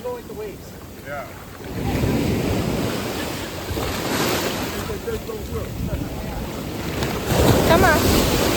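Ocean waves wash onto the beach at Rose Island in the Bahamas, a loud continuous roar of surf and wind buffeting the microphone, with gulls calling faintly and a brief voice early on.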